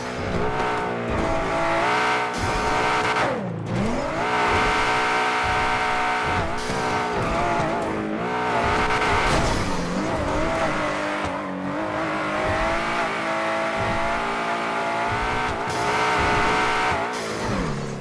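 An Aston Martin in a driving video game roars at full throttle, its engine rising and falling through gear shifts with occasional tire squeal, loud and continuous for the whole stretch with no pauses.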